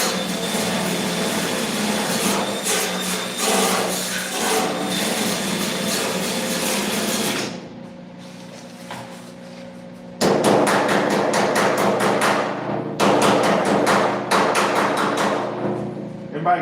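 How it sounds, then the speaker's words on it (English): Sheet metal being tapped into place on the body of a custom Lamborghini build, dense rapid hammer strikes in loud bursts with a pause midway, close by in a workshop. "by tapping that sheet metal into place and then welding it"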